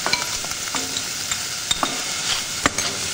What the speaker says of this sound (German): Dann mit einem Esslöffel Olivenöl den Knoblauch und das Gemüse kurz andämpfen.